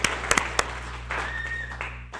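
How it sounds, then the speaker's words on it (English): Applause at a fire district board meeting: a few sharp claps at the start, then a brief, thin patter of clapping from a small group in a room, with a steady hum underneath. "A round of applause,"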